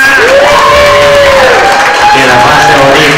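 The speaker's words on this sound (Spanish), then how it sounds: "el aplauso para nuestra quinceañera" Guests applaud and cheer for a quinceañera at her fifteenth-birthday party, a loud, steady wash of crowd noise with whoops and voices rising over it throughout.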